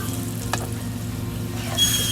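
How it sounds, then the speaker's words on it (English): Pork steak strips fry in a pan, a steady quiet sizzle with a low constant hum beneath it, one brief tick near the start, and a brighter hiss swelling toward the end. "I'm going to let these fry up a little bit, and then we'll flip them over and keep cooking"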